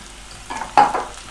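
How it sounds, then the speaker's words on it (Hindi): Onion, peas and carrots frying in a pan with salt and garam masala, a soft sizzle that swells with a short stirring scrape, brief and close, no voices. "2 से 3 मिनट तक मैं इसमें अच्छे से इसको फ्राई करती हूँ"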